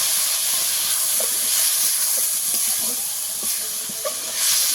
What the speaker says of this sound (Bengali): লঙ্কার গুঁড়ো, মশলা দিয়ে জল দিয়ে দেবো, একটু অল্প একটু জল দিয়ে দিলাম।